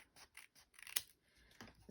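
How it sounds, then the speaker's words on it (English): Scissors cutting along a folded paper line for a handmade pocket folio craft: a quick series of close, crisp snips and rustles, with no talking. "I'm just going to take my scissors"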